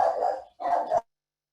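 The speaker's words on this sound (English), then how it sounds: "Sorry about my dog there." A dog lets out two quick close barks indoors, a short pause between them, then silence.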